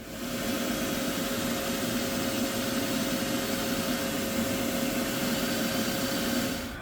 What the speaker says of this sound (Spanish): vamos a usar la tecnología aspiradora. Voy a colocar esto debajo para aspirar todas las partículas.